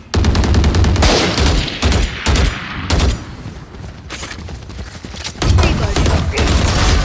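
Rapid automatic gunfire from a video game firefight, loud and close, coming in dense bursts with short breaks, while a player speaks briefly over it.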